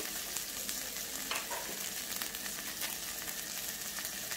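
Green chillies and turmeric go into tomatoes frying in a pan for green chilli brinjal, giving a steady close sizzle with soft scraping stirs throughout and no talk.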